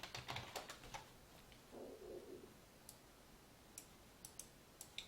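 Quiet typing on a computer keyboard: a quick cluster of clicks at the start, then sparse single keystrokes spaced out over a faint background hiss.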